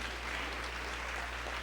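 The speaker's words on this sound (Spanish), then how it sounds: "un fuerte aplauso más bien." Steady applause from a panel audience, a continuous wash of clapping with no pauses and no voices rising above it.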